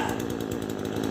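A chainsaw cutting down a storm-damaged tree, its engine whining loud and close in a steady buzzing drone with slight rhythmic pulsing.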